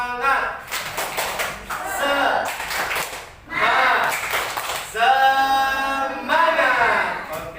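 A classroom group claps the rhythmic "tepuk semangat" cheer in bursts of quick, patterned claps, with voices chanting along between the bursts.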